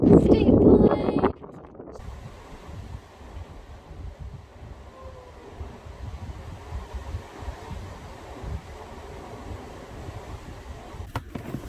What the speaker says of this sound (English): It's just a touch windy here